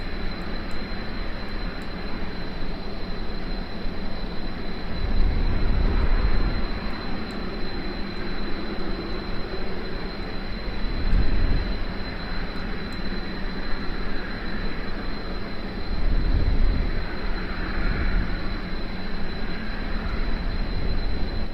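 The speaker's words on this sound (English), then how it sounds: "But that's a nice little plane, a nice little early KSP plane." A small early propeller plane flies in Kerbal Space Program, giving a continuous droning engine roar with a thin steady whine on top, swelling in loudness every few seconds, with no talking.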